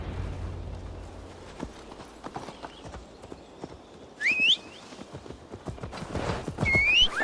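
Horse galloping in the video game Assassin's Creed Valhalla, with a steady stream of hoof thuds and two shrill rising neighs, the second near the end over louder ambient rumble.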